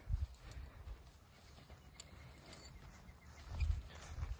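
Faint, irregular hoof thuds of a stallion moving on the ground, soft clip-clops against quiet outdoor background, no talking.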